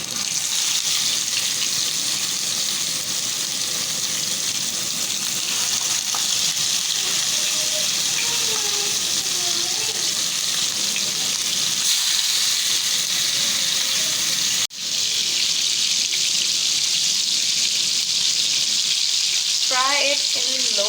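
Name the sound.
chicken malai boti drumsticks frying in hot oil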